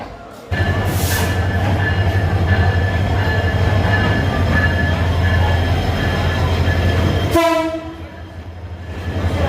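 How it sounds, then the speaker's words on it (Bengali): A train pulls into a station in Bangladesh with a loud, steady rumble and a sustained horn blast, then the horn stops and wheels squeal faintly as it slows, close by. "ট্রেন চলে এসেছে এখন আমি ট্রেনে ওঠার জন্য যাচ্ছি"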